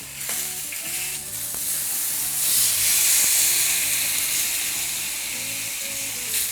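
A steak that has just been flipped sizzles steadily in a hot pan, a continuous frying hiss that swells in the middle and carries on throughout, with no speech.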